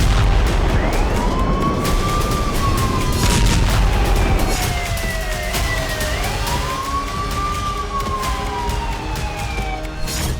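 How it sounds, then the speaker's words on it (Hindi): A wailing air-raid siren rises and falls slowly at night in wartime Ukraine, loud and steady over a dense rumbling background, with several long sweeping cycles and no talking. "थर्राती रात और डराती सायरन की आवाज"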